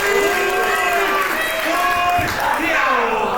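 A wrestling event crowd cheers and whoops in appreciation, a dense roar of voices filling the arena while a commentator talks over it.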